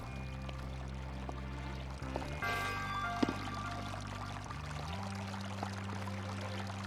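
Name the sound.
flowing water in a shrine, Zelda Breath of the Wild video game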